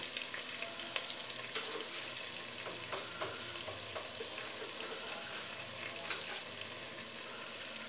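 Ground spices frying in a pan with chili and turmeric powder for a hilsa fish and drumstick curry, a bright continuous sizzle with light scraping stir strokes, close and unbroken, no talking.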